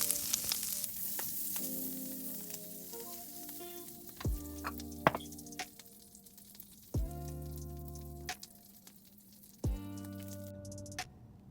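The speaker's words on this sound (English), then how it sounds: "Now we're going to fry our cloud egg." A cloud egg fries in garlic butter in a pan, a faint continuous crackling sizzle with quiet musical tones and occasional soft clicks over a steady backdrop.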